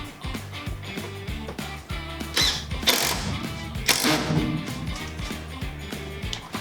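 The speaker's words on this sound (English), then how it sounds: "So we're just taking our Phillips head screwdriver on our impact, and we're gonna go into these holes we just pre-drilled." Impact driver with a Phillips bit driving screws into pre-drilled wood furring strips inside a school bus conversion, sounding as rapid rattling hammering bursts with brief louder surges, close and alone.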